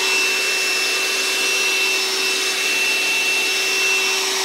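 A ZesGood wet/dry vehicle vacuum runs continuously with a loud, steady motor whir and a fixed tonal hum, the suction noise holding even and close throughout with no breaks.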